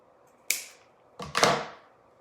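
Two sharp snaps ring out as grapevine wreath strands are cut, one single clip followed by a double crack with a brief rustle, close and fairly loud with no talking.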